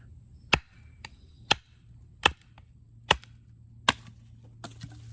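An Esee 6 knife with a full flat grind is batoned through wood, giving six sharp, loud wooden cracks at uneven intervals over a quiet low hum.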